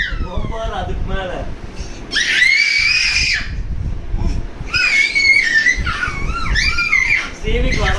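Children scream loudly at home in long, shrill bursts one after another, close and piercing, with voices talking between the screams.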